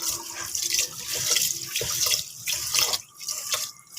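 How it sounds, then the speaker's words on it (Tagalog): Water pours into a pot of rice for washing, a steady, close splashing and gurgling stream that rises and dips in brief pulses. "pagkatapos ng pangalawang hugas mo, lagyan mo ng tubig"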